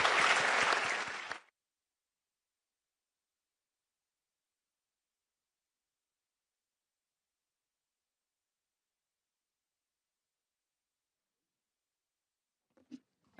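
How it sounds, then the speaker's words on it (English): A conference audience gives a short burst of applause for a morning panel at a progressive summit; the clapping lasts under two seconds, then cuts to silence. "can we have a round of applause, please?"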